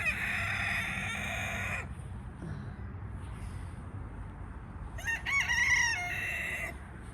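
Roosters crowing on a small hobby farm, with a long crow at the start and another later on, moderately distant, over a steady outdoor noise bed.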